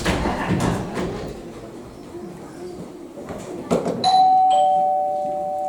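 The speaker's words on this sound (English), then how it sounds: "That's strange. We don't even have a doorbell." A two-tone doorbell chime rings out loudly and clearly near the end, following a stretch of people talking and moving around on a theatre stage.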